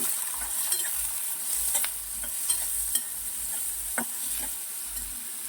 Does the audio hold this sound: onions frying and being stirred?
yes